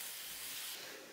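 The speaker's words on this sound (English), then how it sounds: "we're now going to add our peppers. You hear that wonderful sizzle." Peppers sizzling in hot oil in a wok, a steady faint hiss of frying with no talking.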